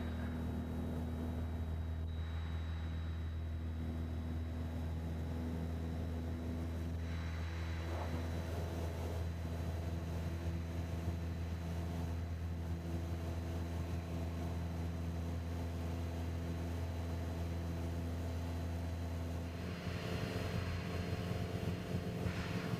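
Steady low drone of a light aircraft engine during takeoff climb, a strong, even hum, continuous and fairly distant-sounding, shifting slightly near the end.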